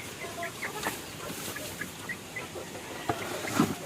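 Chicks fresh from an incubator peep and cheep softly in scattered bursts at a backyard chicken farm. The calls are faint and close over low background noise, with no voices.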